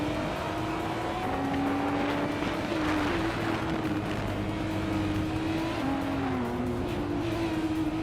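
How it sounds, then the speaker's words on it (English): A 2017 Aston Martin Vulcan AMR Pro leads a field of hypercars racing at New Jersey Motorsports Park, engines droning steadily with shifting tones that rise and dip throughout, a continuous loud roar with no pauses. "the race kicks off at New Jersey Motorsports Park with the hypercars"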